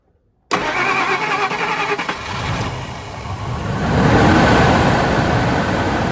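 A 2001 Ford F150 4.6L V8 cranks and starts after an intake manifold reinstall, then settles into a steady, loud idle that swells slightly toward the end, heard close up with no talking.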